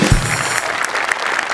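Loud, dense applause from a studio audience at a Marathi television comedy show, a continuous close wash of clapping with a brief louder burst at the start.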